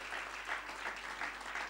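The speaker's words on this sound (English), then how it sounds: "let's give her another round of applause" Applause from an audience after a lecture, a steady, even wash of many hands clapping together, heard from a distance and fairly faint throughout.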